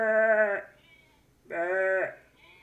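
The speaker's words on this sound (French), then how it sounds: "Allez, les moutons." Two loud, close sheep bleats, each about half a second long with a short pause between them, and no other sound around them.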